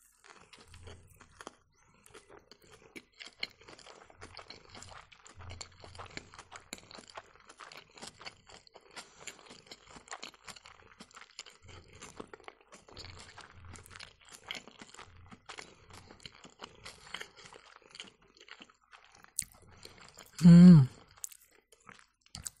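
Someone eating rice porridge pancakes with trout and pear, giving soft intermittent chewing and crunching close to the mic, then a short loud rustle or thump near the end.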